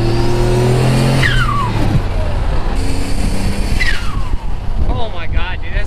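A built twin-turbo Mitsubishi 3000GT VR4 with a 6G72 engine revs loudly on a dyno, its pitch sweeping up and down in repeated surges amid a constant roar, with voices nearby.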